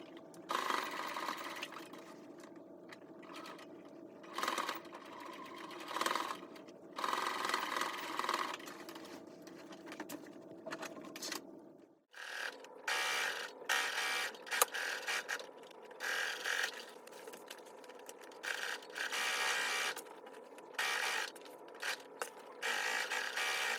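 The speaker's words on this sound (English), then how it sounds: "I'll go ahead and sew within the seam allowance the 2 handles to the bag." A sewing machine stitches two handles onto a tote bag within the seam allowance, running in close bursts of steady whirring separated by short pauses, with no talking.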